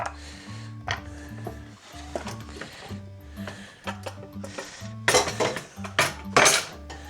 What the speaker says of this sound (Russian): И отправлю сюда в блендер.